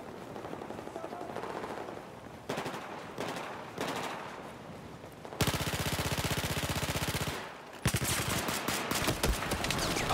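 Sustained automatic gunfire rattles through a Battlefield 4 multiplayer match, in loud rapid bursts broken by short pauses, with a heavy, continuous barrage in the second half.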